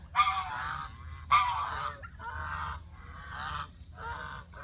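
Several geese honk repeatedly nearby, loud harsh calls in uneven bursts with short pauses between them.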